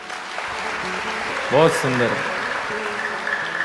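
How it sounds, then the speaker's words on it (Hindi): Clapping from a live devotional audience of the Indian community in Australia during a Yogini Ekadashi program, a steady wash of applause under a man's speech, swelling briefly in the middle. "अपने लिए ताली बजाओ"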